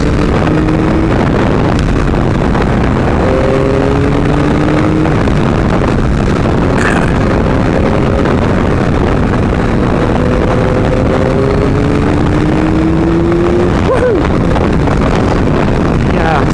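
Loud, continuous Yamaha MT-09 motorcycle engine drone while riding, with rising and falling pitch as gears shift, heavily buffeted by wind noise.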